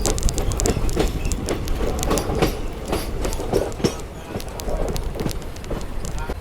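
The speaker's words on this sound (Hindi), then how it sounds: "अभी अपनी ट्रेन पहुंच रही है डिक्टोचेरा रेलवे स्टेशन" The Tinsukia Bangalore Express runs through the Barak Valley in monsoon weather, with a dense, continuous rumble and rhythmic clickety-clack of the wheels on rail, close and loud throughout.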